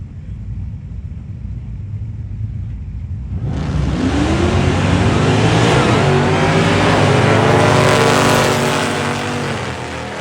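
Drag racing: an S10 pickup truck and a purple Mopar launch down the strip. Quiet idle rumble gives way to a sudden, loud roar of engines that builds, holds at full throttle, and then fades slightly as they pull away.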